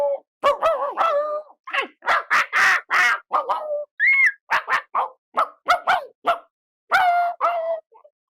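A human voice imitates foxes howling at night with a rapid run of short, sharp, yelping calls, loud and close, broken by brief pauses and one thin, higher whine.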